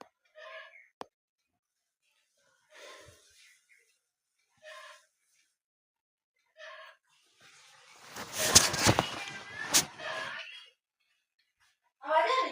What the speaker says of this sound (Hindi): नहीं, मुर्गी की आवाज आ रही